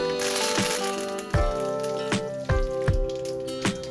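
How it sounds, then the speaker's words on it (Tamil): Mustard seeds, urad dal, fennel and curry leaves hitting hot oil in a pan, with sharp irregular popping and crackling bursts over a steady sizzle, close and loud. "இப்போது ஒரு வாணலில் எண்ணெய் ஊற்றி அது காஞ்சதுக்கப்புறம் கடுகு, உளுத்தம்பருப்பு, சோம்பு, கருவேப்பிலை போட்டு தாளிச்சிக்கோங்க"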